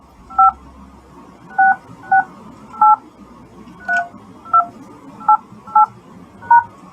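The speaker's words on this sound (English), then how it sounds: "Please enter the destination number for call forwarding no answer, followed by the pound key." Nine crisp telephone keypad DTMF tones punch in a call-forwarding destination number, each short beep separated by a brief pause, loud and close with no talking over them.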